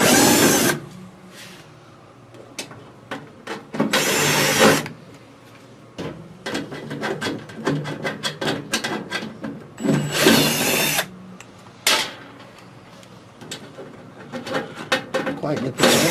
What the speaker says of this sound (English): We're going to remove the number of screws.